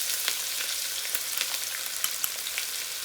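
Ginger garlic paste fries in hot oil for a chicken roast bhuna, a dense, even sizzle with small scattered pops and crackles throughout.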